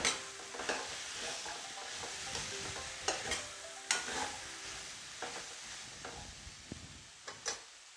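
Vegetables sizzle steadily in a pan with curd while a utensil stirs and scrapes through them, with intermittent clinks against the metal; quiet and close.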